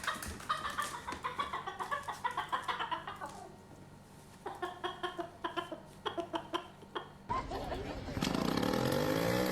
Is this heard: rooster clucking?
yes